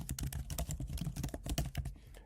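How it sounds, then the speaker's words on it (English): Rapid, irregular clicking of keys on a computer keyboard, close and fairly quiet, in continuous bursts with no voices. "Now type here your channel's name"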